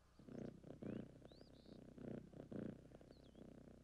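A rhythmic, rumbling purr pulses in steady cycles, close and soft, with a few faint chirping sounds above it.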